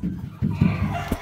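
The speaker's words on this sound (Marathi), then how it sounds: "ह्याला म्हणतात खुडूक कोंबडी" A broody country hen sitting on her nest gives short, low, irregular clucks and grunts as a hand reaches toward her, close and fairly loud.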